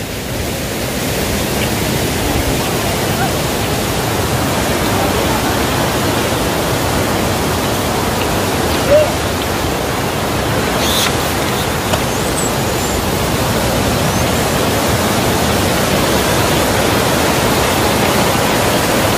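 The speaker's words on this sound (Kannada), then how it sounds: "ದೂಧ್ಸಾಗರ್ ಫಾಲ್ಸ್ ಇಲ್ಲೇ ಬರುತ್ತೆ." The Dudhsagar waterfall roars as a continuous broadband wash of rushing water, loud and unbroken throughout with no voices.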